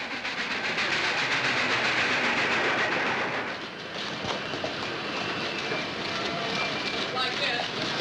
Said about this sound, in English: The train's late.